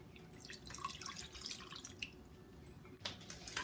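Water pouring into a large pot of white sugar on a stove, a continuous splashing, trickling stream heard close and alone for a few seconds.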